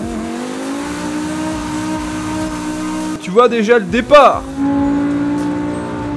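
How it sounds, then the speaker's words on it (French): Lotus Elise engine in Forza Horizon 5, a 500-horsepower car, drones steadily at a held pitch, then revs in a few sharp sweeping bursts midway before settling back to a loud sustained tone, with a voice speaking over it. "Elle fait 500 chevaux. C'est une Lotus Elise."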